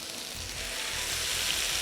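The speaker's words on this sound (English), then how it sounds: "I'm gonna put this on the hot pan for the sizzle like you have in the restaurants." Vegetables sizzle on a very hot restaurant-style pan, a steady, close frying hiss that stays constant throughout with faint low clatter beneath.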